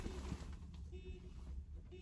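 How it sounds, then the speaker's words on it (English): A car horn beeps in short tonal bursts amid steady background rumble, sounding somewhat distant and moderately quiet. "Who's beeping the horn?"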